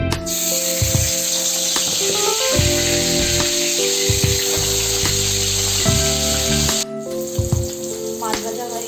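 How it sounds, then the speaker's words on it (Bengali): Katla fish frying in oil in a pan, a loud continuous sizzle and hiss with occasional scrapes and clinks of a spatula throughout. "মাছ ভাজা হয়ে গেছে।"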